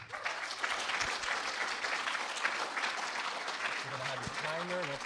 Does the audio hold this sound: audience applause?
yes